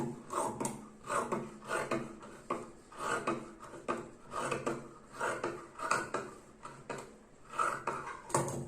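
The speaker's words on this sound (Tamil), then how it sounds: "கால் சைட்ல இருந்து கட் பண்ணிக்கோங்க." Scissors cutting through cloth for night pants, starting from the leg side at a tailoring table, heard as a steady run of close, rhythmic snipping and rasping strokes with no talk.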